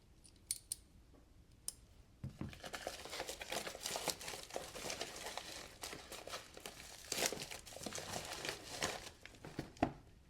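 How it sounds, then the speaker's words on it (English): A razor-blade balisong knife slices into a mystery box package, close rasping cuts and crinkling cardboard and plastic, broken by sharp clicks and scrapes. "I'm going to take my Amazon balisong with a razor blade, and I'm going to cut into this"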